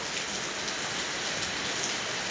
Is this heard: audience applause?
no